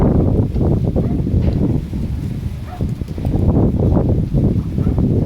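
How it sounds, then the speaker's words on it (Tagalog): Low, rumbling wind buffets the microphone in uneven gusts, swelling and easing throughout with no speech. "Ang hangin."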